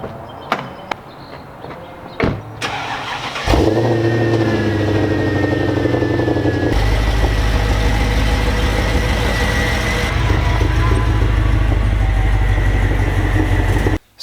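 A broken Mercedes E55 AMG rolls into a garage, its engine loud and close with a few sharp clunks at first, then settling into a steady, rumbling idle that runs on alone without talk.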